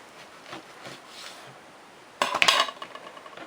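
A knife cuts through a warm cooked stuffed marrow on a kitchen board, with a short cluster of sharp blade and board knocks after a quiet stretch, close and fairly loud.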